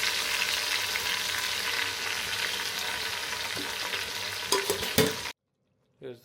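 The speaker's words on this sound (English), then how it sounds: "the amazing sound of the mutton going into the oil and ghee" Marinated mutton frying in hot oil and ghee in a brass pot, a dense steady sizzle with stirring scrapes and clatters near the end before it cuts off, close and loud.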